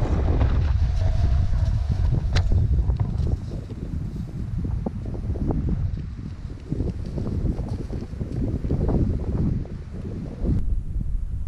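Strong wind roars steadily across a snowy wilderness camp by a pond and thick woods. Loud, continuous gusty rushing and microphone buffeting fill the whole stretch, with no talking.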